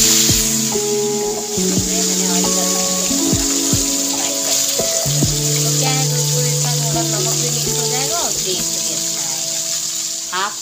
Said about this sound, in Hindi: इसमें नमक और हल्दी लगा के इसको मैं फ्राई करने जा रही हूँ